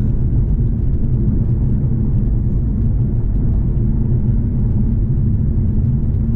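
An Infiniti Q50S Hybrid accelerates, heard from inside the cabin as a steady, loud low rumble of road and engine noise with no talking.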